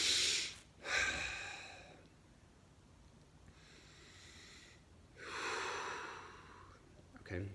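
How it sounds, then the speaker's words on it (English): Hard, forceful breaths during a meditation breathing exercise, a few loud close rushes of air spaced by quieter gaps, with a voice briefly present. "you can take a few hard breaths"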